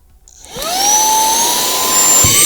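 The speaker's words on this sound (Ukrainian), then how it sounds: "Ми бачимо, як пилосос просто всмоктує в себе листочок" An Aspiring Windstorm 1 cordless car vacuum cleaner spins up from silence into a loud, steady high-pitched whine with a rising tone, sustained close up.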